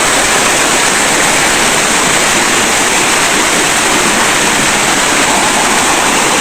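A large waterfall roars loudly and steadily at close range, a dense, unbroken rushing wash of falling water with no other sounds.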